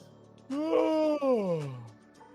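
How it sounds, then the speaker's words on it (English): A single drawn-out yawn with a rising then slowly falling moan-like voice, close and fairly loud, lasting over a second. "I'm yawning."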